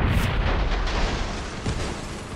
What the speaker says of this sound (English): Oh, I'm gonna get hit by a tow missile.